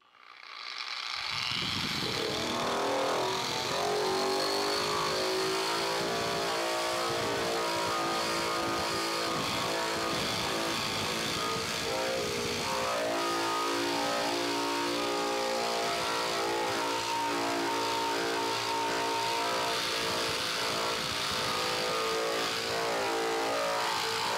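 A Bauer 9 amp surface conditioning tool fitted with a 40 grit wheel runs against a rusty tractor door, starting up and then holding a loud, continuous motor whine with grinding texture for over twenty seconds without speech.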